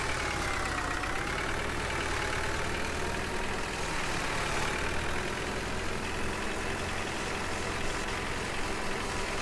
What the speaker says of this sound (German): der fliegt da fast auseinander hier, der Traktor, wenn ich da drüber fahre mit dem Teil